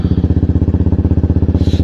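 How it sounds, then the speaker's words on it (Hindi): Motorcycle engine running with a fast, even, thumping idle rhythm, loud and close, with no voices. "करते हैं बाइक को स्टार्ट"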